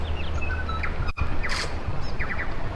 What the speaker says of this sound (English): There's birds again. And with all that bird song,